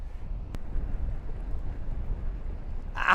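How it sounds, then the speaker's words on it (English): Strong wind buffets a microphone outdoors as a steady low roaring rumble that fills the whole stretch, with a sharp brief click early on and a louder gust at the very end. "Even though it's very, very windy down here."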